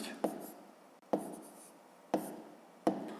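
A pen writes in a school notebook in a quiet room, with four short scratching strokes, each starting with a sharp tap and trailing off, close and soft.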